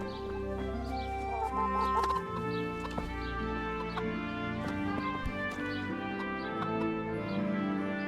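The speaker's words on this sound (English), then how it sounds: "looking for chickens" Chickens cluck in the medieval video game Kingdom Come Deliverance, with repeated short clucks over a steady, droning game ambience.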